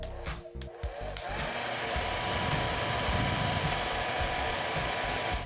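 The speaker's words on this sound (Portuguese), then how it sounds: "Então, afrouxar com o nosso amigo secador" A hair dryer is switched on and blows continuously to loosen the neck peg of a 1999 Britney Spears doll, a loud steady whooshing drone close by after a few brief handling clicks at the start.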